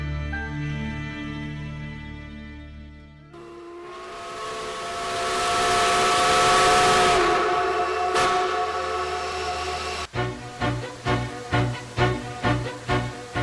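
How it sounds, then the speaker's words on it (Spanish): Steam locomotive train with a steam whistle: a sustained whistle-like blast with broad hissing builds and fades at mid distance, then gives way to a steady rhythmic chuffing of the engine, loud and without voices. "La máquina de vapor supuso el fin de los viajes a lomos del viento y las bestias."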